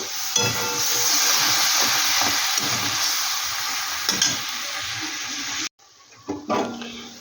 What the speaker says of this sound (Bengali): এবার মশলাটা কিন্তু আমি ভালো করে কষিয়ে নেব